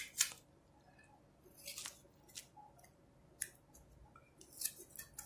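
Scissors snipping masking tape into small triangles, a few crisp close cuts spaced out over quiet background.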